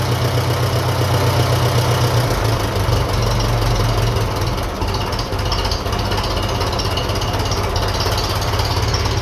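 A 1957 Ferguson FE35 tractor running on TVO has its engine held at raised revs, a loud, continuous, steady chugging drone with a deep, rhythmic pulse throughout.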